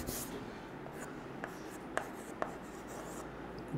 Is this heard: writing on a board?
yes